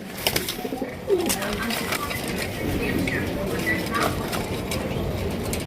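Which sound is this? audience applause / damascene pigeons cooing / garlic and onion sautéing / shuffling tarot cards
damascene pigeons cooing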